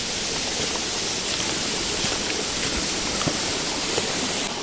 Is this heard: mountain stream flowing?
yes